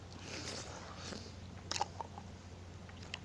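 Someone chewing a very large mouthful of food, with faint, close, wet munching and a couple of brief crunchy bites midway over quiet background.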